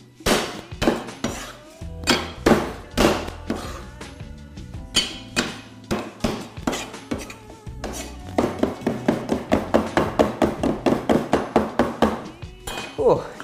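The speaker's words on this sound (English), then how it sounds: "Cleavers are great for bashing things, anything fibrous like prawns." Cleaver repeatedly bashing prawns on a chopping board, sharp loud thuds in irregular bursts, then a fast steady run of rapid chops near the end.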